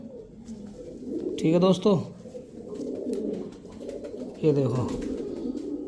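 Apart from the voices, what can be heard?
original Meerab pigeons cooing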